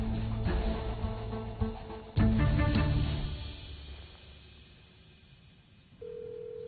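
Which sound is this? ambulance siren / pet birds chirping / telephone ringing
telephone ringing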